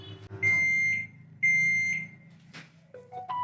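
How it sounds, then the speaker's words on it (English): Samsung microwave oven timer alarm sounding mid-cook: a few loud, steady electronic beeps, each about half a second long, followed by short higher chirps near the end. "After 2 minutes, an alarm has sounded."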